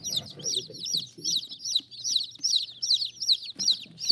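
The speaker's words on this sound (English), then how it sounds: "3 roosters, like we said. And 25 hens." A large flock of about 25 hens and 3 roosters gives repeated, rhythmic high clucks and squawks close by, with brief speech-like bursts underneath.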